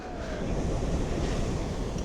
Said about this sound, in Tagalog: Grabe, sarap pakinggan ng tunog ng dagat, no?